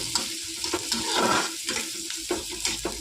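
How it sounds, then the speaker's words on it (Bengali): Chopped onion sizzles in hot oil in a home kitchen, a loud, close, continuous frying hiss with spatula scrapes and stirring clatter running through it. "তেল গরম হয়েছে, এবার তারপর দেবো পেঁয়াজ কুচি।"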